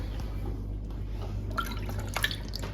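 Sparse water drips fall into a basin of warm water while washing a cross stitch piece, over a low steady hum, a few soft plinks near the end.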